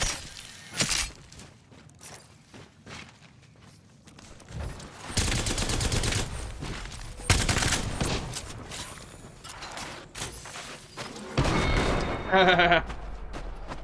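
Gunfire in the battle royale game Apex Legends, with bursts of rapid automatic shots and sharp cracks among game effects, loud and irregular, some shattering sounds near the end.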